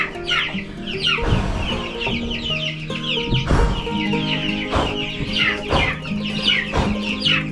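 Chickens cluck steadily close by in a dusty chicken coop on an Alaska homestead, with repeated short calls and rustling movement throughout, no talking.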